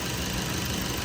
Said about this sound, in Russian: Мотор запущен.